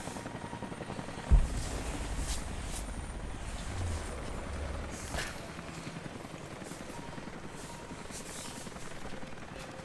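Helicopter in the video game Rise of the Tomb Raider, a steady low rotor drone running throughout under a game soundscape, with a sharp thump near the start and a few faint later hits.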